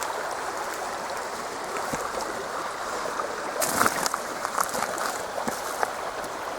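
A creek flows steadily as a constant broadband rush of water, nearby and moderately loud, with a few brief splashy bursts partway through and no voices.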